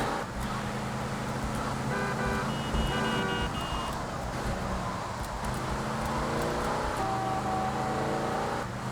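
A car drives in the GTA Vice City video game, its steady engine drone running continuously with tonal whines and horn-like tones rising and falling over the road noise, without talk.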